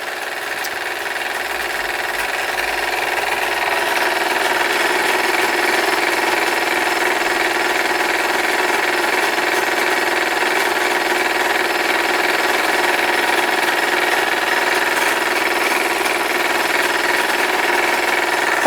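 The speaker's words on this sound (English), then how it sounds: "you can definitely hear the load being applied to the engine" Steam engine running under an electrical generator load, a dense, steady mechanical chatter and hum that rises slightly early on, then holds loud and constant with no voices.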